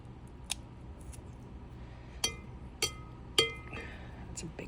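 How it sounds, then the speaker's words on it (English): Frozen broccoli pieces being cut smaller in a kitchen, a few sharp isolated snips or clicks spaced about a second apart over low background noise, with quiet talking. "Any of the big pieces, we're going to cut those smaller"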